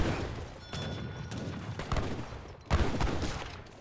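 Musket gunfire in an Age of Empires 3 battle, with musketeers and Minutemen firing: a continuous crackling fusillade of overlapping shots, with a heavier burst near the end, fairly loud and close.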